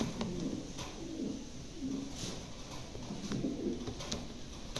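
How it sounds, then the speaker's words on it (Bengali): A pair of Mundi pigeons coo softly nearby, several low rolling coos repeating through the stretch over quiet room background, with no talking. "দেখার মতন একজোড়া কবুতর"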